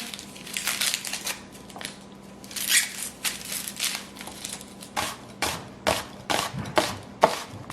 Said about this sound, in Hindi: अब प्याज काट लेते हैं, एक बड़ी प्याज ले लें